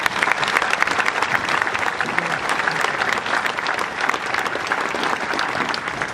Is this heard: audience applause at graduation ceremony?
yes